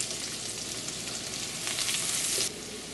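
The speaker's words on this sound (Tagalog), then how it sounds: "Igigisa natin. At ihalo ko na rin kaagad dito yung minced garlic." Onion and minced garlic sautéing in a pan, a steady close sizzle and frying hiss that swells briefly louder before settling back, with no talking.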